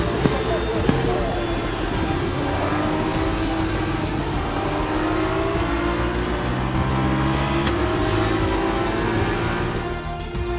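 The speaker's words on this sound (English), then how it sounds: "Here's our winner pulling their Prema into Parc Fermé then." Prema F2 race car rolling slowly into parc fermé in a racing video game at the Jeddah circuit in Saudi Arabia, a steady engine drone with gentle pitch rises, under commentary talk.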